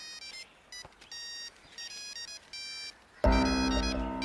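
A mobile phone ringtone sounds in short repeated melodic beeps, then swells abruptly into a louder, fuller ringing melody that continues to the end.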